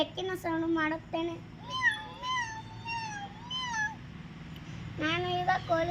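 A first-grade child imitates a cat, voicing a string of drawn-out meows one after another, close to the microphone, with rising and falling pitch and a short pause near the end.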